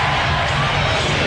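Arena crowd roaring steadily through a close NBA basketball game between the Los Angeles Lakers and Seattle SuperSonics, a dense wash of cheering with a commentator's voice faintly underneath.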